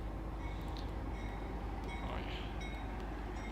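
A train runs in the Minecraft Traincraft mod, a steady low rumble with faint clanking and a few high squeaks carrying on throughout at moderate level.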